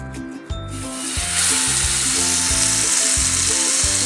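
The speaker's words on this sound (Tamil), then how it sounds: "இப்போ நம்ம மீனை போடலாம்." Fish dropped into hot cooking oil in a home kitchen, giving a loud, steady sizzle of frying that swells after a brief quieter start and holds continuously, with some stirring clatter and no talking.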